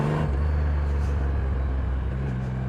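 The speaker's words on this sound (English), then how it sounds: "you can kind of like downshift hard with a little rev match there" A Triumph Rocket III motorcycle engine rumbles steadily and close, its low note stepping in pitch as it downshifts hard with a rev match, with no talking over it.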